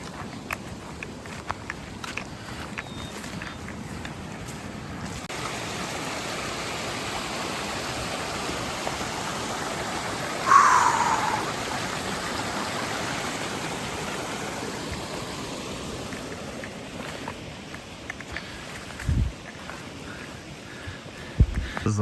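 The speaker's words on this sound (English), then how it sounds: "Water coming from every direction." Water streams and splashes continuously down a rocky mountain chute below a ridge, a steady broadband rush heard up close, with footsteps crunching over it at times and a few brief louder knocks.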